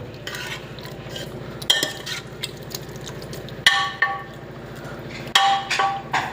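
Grated carrot halwa roasting in ghee in a pan on a gas stove, stirred with a metal spoon: steady scraping and stirring with a soft sizzle and a few sharp utensil knocks against the pan, close and fairly loud.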